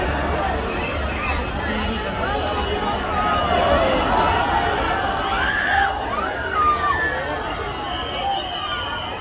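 A dense crowd roars and shouts continuously at a Ganpati idol arrival procession in Mumbai, loud and close throughout, with many overlapping voices and no pauses.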